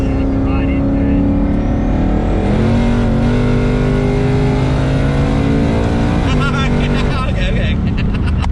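A twin-turbo Coyote Ford Mustang S550 accelerating hard through the gears, loud and close, its rising engine note dropping at each shift, with voices talking over it.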